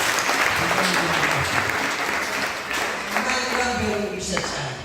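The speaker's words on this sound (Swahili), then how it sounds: "Makofi ya kupigia Mungu." Applause from a congregation at an overnight church service, steady loud clapping filling the room throughout, with voices mixed in beneath the crowd noise.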